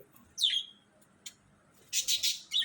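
Diamond doves calling near a nest during nesting, a bright chirp near the start followed by a quick burst of three or four clipped calls toward the end, alone and close with no talk.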